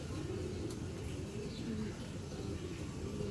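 A Sialkoti crossbred breeder female pigeon coos softly in low repeated murmurs over a steady background hum, faint and close.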